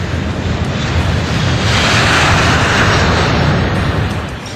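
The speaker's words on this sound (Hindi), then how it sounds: "इस विशालकाय हवाई जहाज ने अपने पंख फैलाकर उड़ान भरी" Stratolaunch, the giant aircraft, taking off on its first flight in the United States: a loud, steady, broadband engine roar and rush of air that swells through the middle and eases slightly at the end, with no voices.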